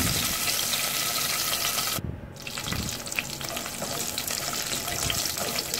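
Raisins and almonds fry in hot olive oil in a saucepan, a loud, dense sizzle with crackles and pops that briefly dips, then resumes with stirring scrapes, close up and with no talking.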